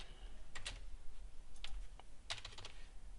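Quiet computer keyboard typing in short bursts of rapid key clicks separated by pauses, close and soft over faint room hum.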